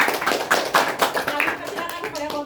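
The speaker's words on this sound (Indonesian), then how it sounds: "silakan tepuk tangan dulu." A small group at a GKPS youth fellowship gathering in a family home claps after a presentation, with uneven, fairly close hand claps that thin out toward the end, and a little murmured talk underneath.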